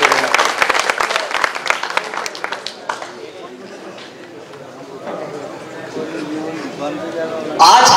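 At a kavi sammelan poetry event, an audience bursts into loud, close applause that fades into scattered clapping, then a voice speaks over the tail as the clapping swells again.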